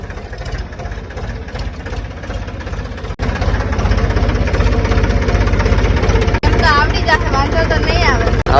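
Tractor engine running steadily at close range, a loud low rumble throughout with brief dips, while an instructor's voice talks over it during a driving lesson on a farm.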